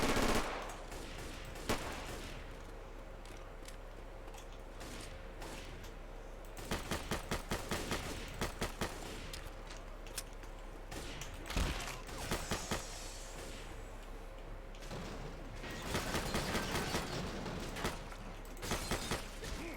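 Gunfire in the video game Left 4 Dead 2, with repeated rapid bursts of automatic fire and scattered single shots against a constant background rumble, loud and close throughout.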